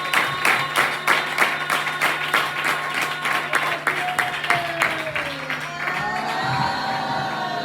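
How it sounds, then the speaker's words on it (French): Congregation at an evening church service breaking into loud, sustained applause with rhythmic clapping, cheering and whoops, swelling and then fading over several seconds. "Acclame très fort"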